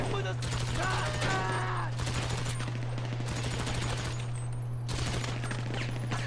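During a video game bank heist, bursts of rapid gunfire aimed at gang members come in clusters separated by brief lulls, over a constant low hum.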